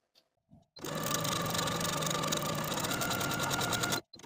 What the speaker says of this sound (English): Start sewing our gathering stitches using the longest stitch on our machine with about a 1/2 inch seam allowance